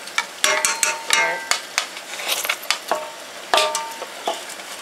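Rice being added to a pot of waakye and stirred: repeated scraping clinks and knocks of a utensil against the pot in an uneven rhythm, close and fairly loud, with light sizzling beneath.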